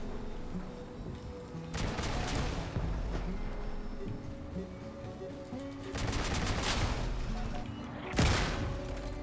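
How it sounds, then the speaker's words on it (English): Automatic gunfire from bots in the vehicle combat game Crossout, rapid bursts of shots repeating in clusters over steady engine and game noise, with a heavier boom near the end. "I'm getting shot by bots."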